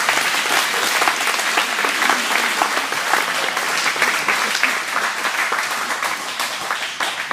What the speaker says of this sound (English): can we have a round of applause for our 3 volunteer ancestors?